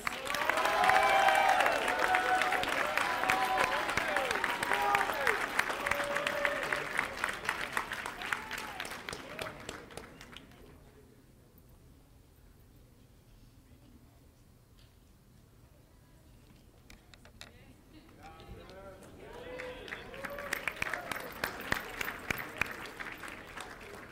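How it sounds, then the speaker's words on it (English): A crowd applauds 2019 National Honor Society inductees, steady dense clapping that fades to near quiet midway and then swells again with a second round of applause. "Let's all please give a big round of applause to our new 2019 National Honor Society inductees."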